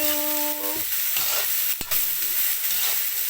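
Fried tofu with seasoning is stirred in a hot pan, a continuous loud sizzling hiss broken by scraping stirring strokes and one sharp knock, with a brief tonal whine near the start.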